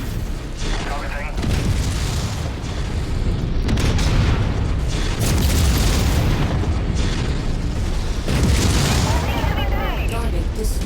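Heavy booming blasts from a nuke strike in a video game, loud and sustained, with repeated rumbling bursts swelling across the whole span and radio-style voice chatter mixed underneath.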